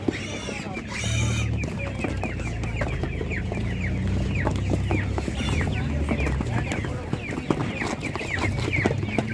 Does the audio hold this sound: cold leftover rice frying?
no